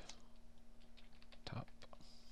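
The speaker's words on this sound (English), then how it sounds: "we can go ahead and just type" Quick bursts of keystrokes on a computer keyboard, close and quiet, with a brief louder clack partway through while a drawing page is set up in Inventor software.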